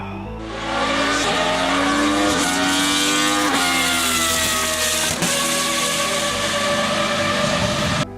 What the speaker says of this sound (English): you can just see the one of the best sounding engines in the world, Judd.